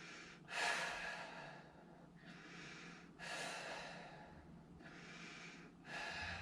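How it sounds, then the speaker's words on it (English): Slow, deep breaths during a yoga-style upper-body stretch on a living-room floor: four long airy exhalations in a steady rhythm, close and fairly soft, with no talking. "3 more breaths."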